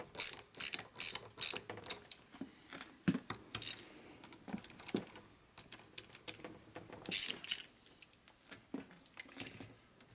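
A hand ratchet turning screws on a 1978 Harley shovelhead engine during a rebuild, giving bursts of quick clicking pawl ratchets close by, pausing and resuming with a few lighter clicks between strokes.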